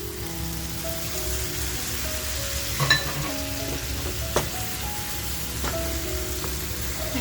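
Gaboli fish roe masala sizzling and bubbling in a pan with its gravy, a steady close crackle of frying with occasional small pops and faint tonal beeps, no voices.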